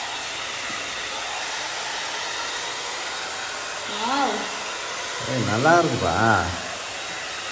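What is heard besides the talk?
hair dryer running on low heat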